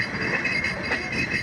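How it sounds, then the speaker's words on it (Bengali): Rupsha Express passenger train pulling out of Parbatipur Junction station, a steady moderate rumble and clatter of rolling carriages with a high metallic hiss, continuous and unbroken. "আমার রূপসা এক্সপ্রেস ট্রেনটা এখন ছেড়ে দিল।"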